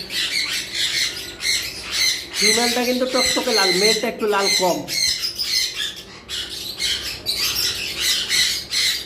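Harsh conure parrot squawks ring out repeatedly and close by, loud and raucous, while a person talks over them.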